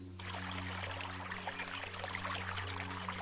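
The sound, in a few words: stream water flowing around a rock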